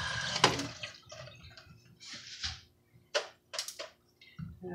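Water runs and splashes in short intermittent bursts while rinsing the seeds out of a cored pepper in a home kitchen, with brief gaps of quiet between the spurts.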